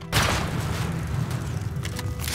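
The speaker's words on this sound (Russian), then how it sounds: "Недалеко от нас послышались взрывы ракет" Rocket explosions in the survival game Rust, a heavy booming blast that rolls on with a sustained low rumble, fairly loud and with no talk over it.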